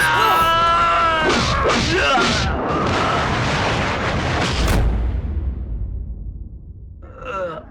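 Loud firecracker-like bursts crackle through a tense action-film scene, starting with shouting and yelling, then fading out, with a brief shout near the end.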